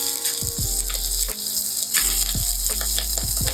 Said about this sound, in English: Okay, so I'm gonna put my beef in here so it can sear.